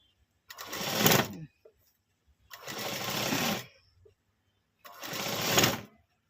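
A sewing machine stitches a hemming strip for tailoring, running in three distinct bursts of about a second each, separated by short pauses, close and steady with no talking.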